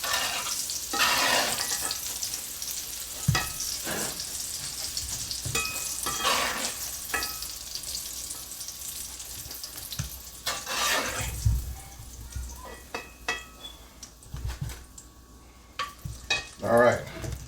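Salmon croquettes frying in a pan over medium to medium-high heat, a steady sizzle running throughout with intermittent louder bursts, clatters and scraping as the patties are moved and turned.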